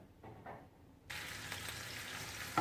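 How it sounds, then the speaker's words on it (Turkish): Minced meat starts frying in a pan, faint scraping for the first second, then a sudden loud, steady close sizzle that continues to the end, with no talking. "Ben biraz kıyma koydum. Biraz kavurduktan sonra az bir şey kavurayım."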